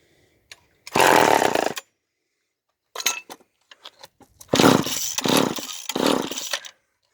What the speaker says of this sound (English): at least we know this chainsaw is going to start